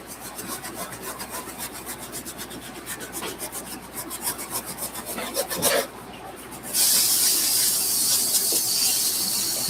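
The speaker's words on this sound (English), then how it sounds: "Detail wire brush, dip that in solution. Just gonna hit the stitching on the front." A detail wire brush dipped in cleaning solution scrubs the stitching on a suede shoe, giving quick rhythmic rasping strokes that end in a sustained hiss.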